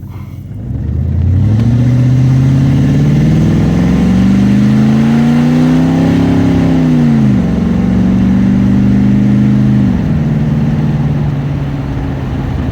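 High-mileage OBS Ford pickup truck pulling away from a stop, its engine rising through a strong revving acceleration, dipping briefly at a gear change, then settling into a steady cruising drone, close and loud with no voices.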